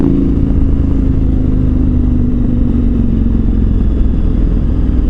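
A KTM 1290 Super Adventure R motorcycle on the move, its engine droning loud and steady under constant wind roar, with no clear revving changes.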